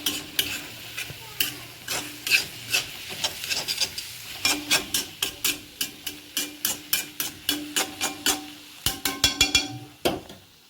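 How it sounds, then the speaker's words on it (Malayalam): Tomatoes being mixed and crushed in a pan, with a spoon scraping and tapping the metal in quick repeated strokes over a soft sizzle, close and fairly loud, in uneven bursts. "തക്കാളിയും ഇട്ട് കൊടുത്തു നമ്മൾ അതും കൂടി ഇങ്ങനെ മിക്സാക്കി ഒന്ന് കുത്തി കൊടുക്കുന്നുണ്ട് കേട്ടോ"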